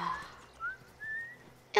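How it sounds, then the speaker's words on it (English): A young girl in The Last of Us video game whistles a short tune, a few sustained notes with gaps between them, heard clearly after a brief bit of talk. "I'm whistling!"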